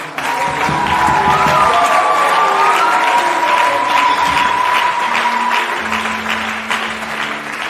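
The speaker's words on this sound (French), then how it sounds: "Est-ce que tu peux acclamer très fort?" A church congregation at a New Year's Eve service applauds and cheers loudly and steadily throughout, with a sustained crowd roar, scattered voices and tones rising over the clapping.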